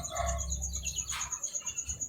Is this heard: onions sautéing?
no